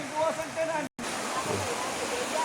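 Water flowing from a mountain spring at Mananum, a steady close rushing hiss with a brief cut partway, while someone talks over it.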